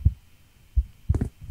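Heartbeat thumps in a horror video game, three low muffled beats with the last one doubled and followed by a faint lingering throb, standing alone without talk.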